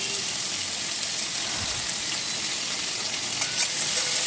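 Capsicum, onion, potato, green chilli and chopped garlic fry in a hot pan, giving a steady close sizzle with faint stirring scrapes and no talk.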